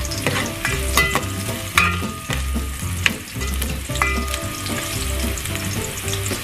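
Ginger and onion sizzle and fry in a hot pan for chicken tinola. A steady crackling sizzle runs throughout, with repeated clinks and scrapes of stirring close by and no talking.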